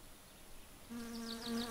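Flies buzzing in My Summer Car, a steady insect drone that swells in after a quiet start and keeps going, fairly close and wavering in pitch.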